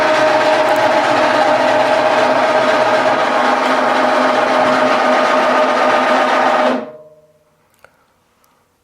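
A motorized glass lifter on an Energy Com table drives back to its start position, giving a loud, steady mechanical hum and whine that runs evenly for several seconds and then cuts off abruptly, leaving near silence with a few faint clicks.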